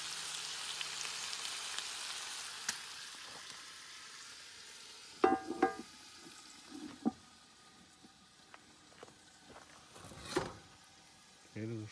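Food frying in a cast iron pan over a camp fire at an off-grid hunting camp, a soft steady sizzle broken by a few sharp stirring scrapes and clanks, heard close.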